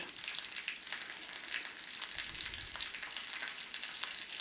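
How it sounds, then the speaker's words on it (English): A steak's thick fat cap searing against a hot pan gives a steady, close, even sizzle that crackles lightly and never lets up, with no voices over it. "So hold your steak in there and start to sear that fat cap."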